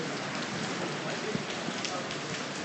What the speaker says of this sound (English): Rain everywhere